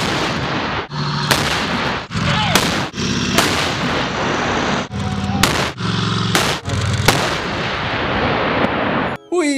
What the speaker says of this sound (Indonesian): Yang terakhir, ada tank baja.